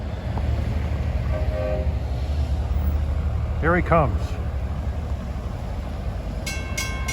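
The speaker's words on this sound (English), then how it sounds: "This town's loaded with crossings, so if you like horn honking" A Long Island Rail Road train horn sounds at a grade crossing on a cool autumn day, a brief harmonic blast rising out of steady outdoor rumble near the middle, with someone speaking briefly before it.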